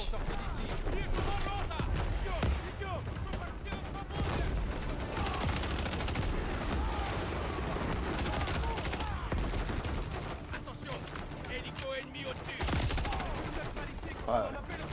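Rapid gunfire from the video game Modern Warfare 3, played on a handheld, rattling in dense continuous bursts that carry on for the full stretch, with a voice speaking over the shooting.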